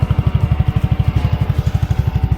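A Segway Snarler AT6L ATV engine idles with a low, steady chug in a fast, even pulse, close and loud, with no voices over it.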